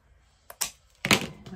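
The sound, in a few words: scissors slicing through ribbon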